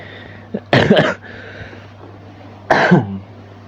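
Two harsh, close coughs from a person on an indoor podcast, the first a brief double burst and the second a single hard cough about two seconds later, over a quiet steady hum.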